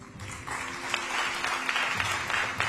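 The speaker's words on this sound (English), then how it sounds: "A bigger round of applause, please." Audience clapping at a community awards ceremony, a steady wash of moderate applause throughout with a faint tone underneath.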